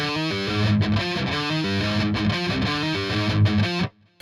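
Distorted electric guitar riff in drop C tuning from a song, with hammer-ons and pull-offs driving a fast, steady, repeating pattern that plays loud and close before cutting off abruptly near the end.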